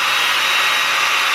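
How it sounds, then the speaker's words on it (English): A hair dryer blows steadily and loudly while a puppy is groomed, a continuous close whoosh with no talking over it. "She was trying to bite the dryer."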